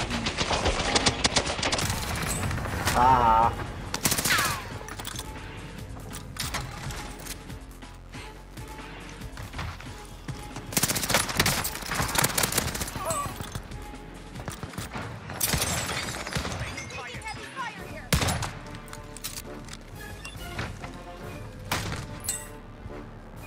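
Rapid bursts of gunfire and a rocket launch in an online shooter video game, dense overlapping shots and blasts crackling loudly throughout, with a brief exclamation from a player.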